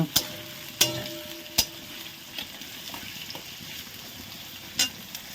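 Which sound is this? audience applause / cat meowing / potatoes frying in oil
potatoes frying in oil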